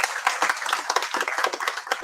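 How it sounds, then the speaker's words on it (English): Steady, dense clapping from an audience at a doctors' conference during a hemp expo, many hands overlapping into a continuous round of applause that holds for the whole stretch, moderately loud and without a break. "I would like to give a big clap for that."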